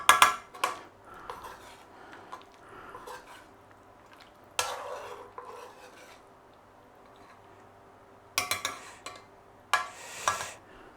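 A spoon scraping and clinking against a pan as minced beef is scooped out of braised cabbage soup, with sharp bursts of metal knocks between quieter stirring and shuffling, close and unvoiced.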